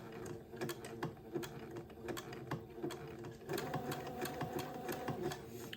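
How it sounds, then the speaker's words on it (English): Sewing machine zigzag stitching slowly along an entredeux lace line, catching the lace header: a steady close mechanical whir with rapid regular needle clicks that grows slightly louder and busier partway through, no voices. "I'm gonna very slowly start zigzagging down this Entredeux line."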